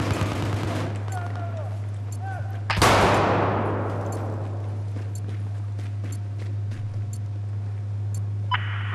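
Gunfire in the first-person shooter Battlefield 4: one loud, close blast with a long rolling decay, followed by scattered faint pops and crackles over a constant low electronic drone.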